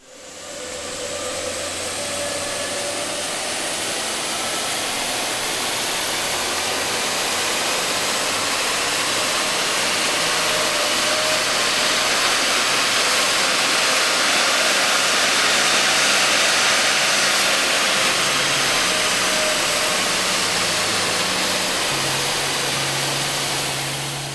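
A car engine roars continuously at high revs on a dyno for a long stretch, a loud steady drone with rising and falling pitch and no talking.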